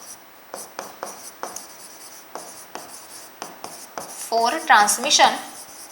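Chalk or marker writing on a board during a class lecture, with short scratchy strokes tapping out at irregular intervals, then a longer burst of squeaky writing near the end, with a voice speaking faintly in the background.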